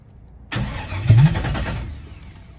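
An LS-swapped G-body car engine cranks and catches, a sudden loud burst of starter and engine noise that swells briefly, then settles into a rougher running drone before fading near the end.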